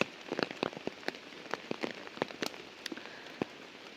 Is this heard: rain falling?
yes